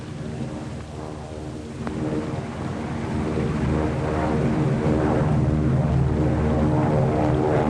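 A 1939-era propeller airplane drones overhead, its throbbing engine growing steadily louder as it approaches to land at an airfield.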